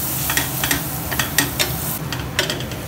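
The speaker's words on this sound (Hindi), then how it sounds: "प्याज को सिर्फ गर्म होने रख दिया था 1 से 2 मिनट, और इस तरीके से मैं इसे स्टर कर रहा था बैक टू बैक" Onions warm in a pan for street-style masala pav, stirred back and forth in quick, rhythmic scraping strokes over a low, close sizzle.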